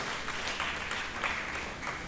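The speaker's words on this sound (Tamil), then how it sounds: "அவர்கள் அனைவரையும் நாம் கைத்தட்டி அன்போடு அவர்களை வருக வருக என்று" Audience clapping in welcome at a memorial public meeting hall, a steady, fairly soft wash of crowd applause throughout a couple of seconds.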